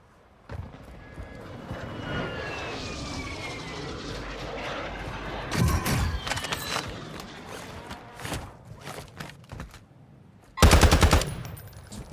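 Game combat audio from a first-person shooter during an incoming hostile airstrike: a droning aircraft pass with rattling bursts of gunfire, then a loud sharp blast near the end, with intermittent impacts between.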